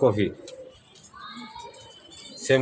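A male white Budapest racing pigeon gives a brief soft coo close by, with a voice speaking just before and after it.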